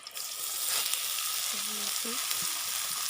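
Sliced pointed gourd fries in oil with onion and chili, a steady bright sizzle filling the scene, with a few faint tonal clinks and scrapes partway through.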